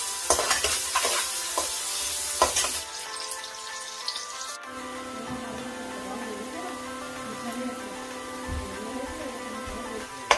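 Chopped onion frying in a pan until golden brown, cooked for an aloo palak sabzi. A loud sizzle with busy stirring fills the first few seconds, then settles into a steadier, softer sizzle over a faint tonal hum.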